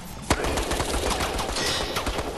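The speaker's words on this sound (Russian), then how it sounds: "твои выстрелы из автомата" Automatic rifle fire in the multiplayer game Resident Evil Resistance, a sharp crack followed by rapid, loud bursts and continuous shooting, with no talk.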